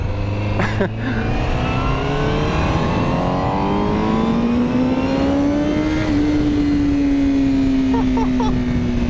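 A 2020 Honda CBR1000RR-R SP superbike riding at about 80 km/h, its engine droning steadily with rising whine as it pulls through the gears, under continuous wind rush.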